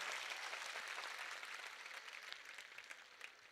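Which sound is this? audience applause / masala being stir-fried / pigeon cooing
audience applause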